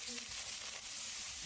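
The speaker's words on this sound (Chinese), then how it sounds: "油热放入虾仁粒" Diced shrimp hit hot oil in a frying pan being used to cook savoury seaweed and shrimp pancakes, giving a soft, steady hiss and crackle that stays faint and continuous throughout, with no clear talk over it.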